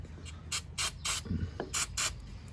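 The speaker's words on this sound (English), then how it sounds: "I'm gonna spray a little lubricant." An aerosol can sprays lubricant onto bolts on a VW Beetle in six short hissing bursts, close and loud, with brief pauses and a faint clunk between them.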